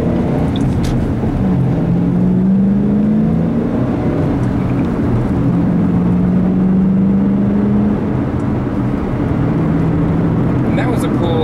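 A 2007 Ford Mustang GT Premium with a manual gearbox accelerates at quarter to half throttle to 55 mph, engine tone climbing steadily through gears, heard loud from inside the cabin over road noise.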